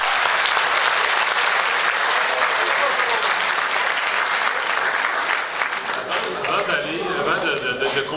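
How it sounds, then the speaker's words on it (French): Loud, sustained applause from an audience at a school sports gala, dense clapping filling the whole stretch and thinning slightly near the end, with voices in the crowd underneath. "une belle main d'applaudissements, s'il vous plaît"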